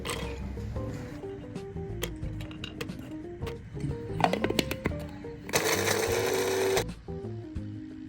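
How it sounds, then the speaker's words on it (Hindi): Roasted almonds get roughly chopped in an electric grinder, a loud, close whirring burst of just over a second, set among lighter kitchen clatter and rattling before and after. "अब इन आलमंड्स को एक ग्राइंडर में रफली चॉप कर लें।"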